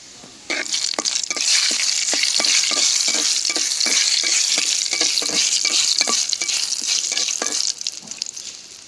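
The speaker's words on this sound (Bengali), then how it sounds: "মরিচটা কড়া করে ভাজা নিলাম" Loud, crackling sizzle of dried chilies frying crisp in hot oil for tempering, starting abruptly and spitting in rapid bursts, with regular scraping strokes of a spoon.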